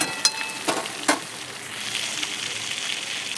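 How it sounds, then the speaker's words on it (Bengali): Yardlong beans sizzle and fry with potatoes in a pan, a steady close crackle broken by a few sharp pops early on, with no voices. "তারপর বরবটিগুলো দিয়ে দিলাম। বরবটিগুলো আমি ভেজে নেব।"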